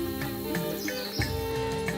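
Jungle birds in an Asian jungle chirp in short repeated calls over a dense, steady bed of insect and forest ambience, moderately close and continuous.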